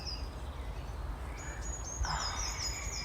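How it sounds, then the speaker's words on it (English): Birds calling outdoors on a bright January day, several thin high chirps and whistles, faint to moderate, over steady background ambience with a brief louder call near the end. "Let's just listen to the birds again."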